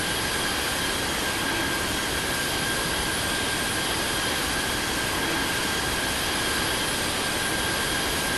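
Jet engines of an aircraft in the Infinite Flight Simulator video game give a constant, even roar with a faint steady whine above it, loud and unbroken throughout with no voices.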